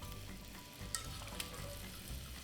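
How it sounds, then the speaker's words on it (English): Gemelli pasta and winter squash sautéing over high heat, a steady close sizzle with a couple of brief clinks as the pan is swirled, no talk. "The heat is high under the squash. Quickly swirl it and saute it."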